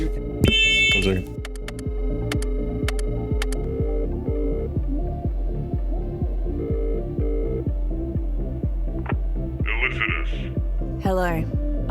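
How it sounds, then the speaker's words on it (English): In-game fire alarm pulsing in a steady, rapid throbbing buzz that repeats evenly for many seconds, with brief beeps and electronic tones on top. "I just set up a fucking fire alarm"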